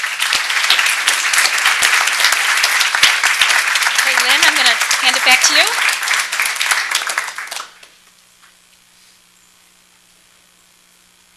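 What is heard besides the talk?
audience applause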